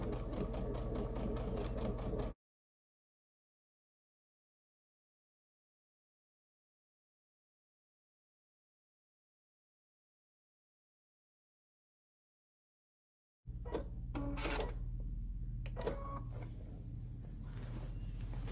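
A sewing machine stitches in the ditch along a half apron, a short burst of rapid whirring stitches, then a long silence before the machine starts up again with quick uneven runs.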